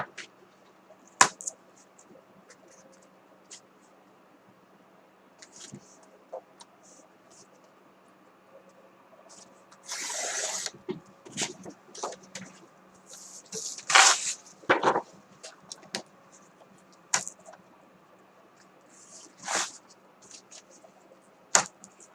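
Paper sheets sliced with a cutter while making DIY jeweled pencils, giving a few brief, fairly close crisp bursts, clustered and irregular, over a quiet room background.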